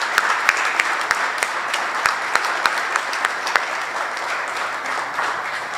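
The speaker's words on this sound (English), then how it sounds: "Let's give a big round of applause for our veterans." Audience applause for veterans at the grand opening of a Veterans Affairs office in a senior center, a steady wash of many hands clapping with a few sharper nearby claps standing out, no voices.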